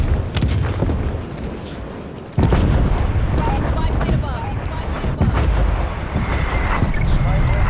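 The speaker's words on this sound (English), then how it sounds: "Artillery strike coming in." Artillery strike explosions in the video game Call of Duty: Black Ops Cold War, with loud, dense booms and blasts rolling continuously through the stretch, and one sharp impact partway in, while players talk over the battle.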